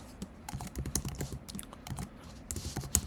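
Python code being typed on a computer keyboard: quick, irregular bursts of close key taps with brief pauses between runs, clear and unaccompanied by speech.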